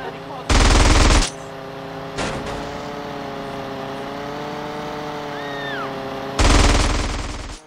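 Two loud bursts of rapid automatic gunfire in GTA San Andreas Definitive Edition, one near the start and one near the end, over a steady droning vehicle engine with a brief clatter between.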